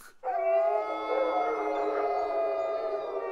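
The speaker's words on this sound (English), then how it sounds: "Close at hand came the howling of many wolves." Many wolves howl together close at hand, a sustained layered chorus of long tones that rises suddenly after a brief lead-in and holds steady and loud, with no voices over it.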